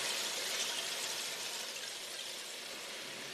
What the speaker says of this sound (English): you get the sound of the wave landing on the sand